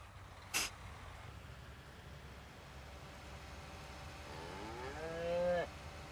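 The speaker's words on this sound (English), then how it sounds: "there's the cow. Got the moo coming through." A cow moos once in the Farming Simulator 19 video game, a clear drawn-out bellow rising near the end, after a brief sharp click, over a low steady background hum.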